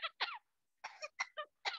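A pet bird imitates a human cough, giving a quick series of sharp, raspy coughing bursts in two groups separated by a short pause, close and clear with nothing else behind them.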